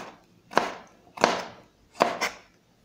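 A knife chops bell pepper on a cutting board for pork fajitas, with three separate close thuds spaced evenly and clearly apart in a quiet room.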